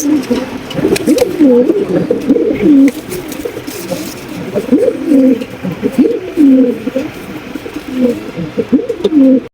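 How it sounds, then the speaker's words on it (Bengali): A pair of Jharna satin pigeons coo in repeated, rolling phrases at close range, steady and fairly loud throughout with faint background noise. "একজোড়া ঝর্ণা শাটিন কবুতর অলরেডি কিন্তু ডাকা ডাকি শুরু করে দিয়েছে"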